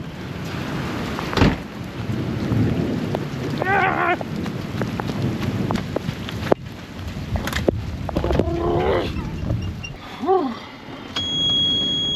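Heavy rain pours outside a truck shop with a few thunder cracks and rumbles mixed into the steady wash, no one speaking.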